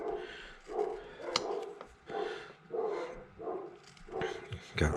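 Several dogs bark repeatedly in bursts indoors during an egg-carving session, fairly close and moderately loud.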